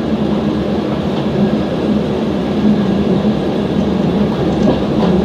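Steady, loud rumble of a Lättähattu diesel railbus in motion on a harbour transfer run, a continuous roar with faint clatter throughout and no voices.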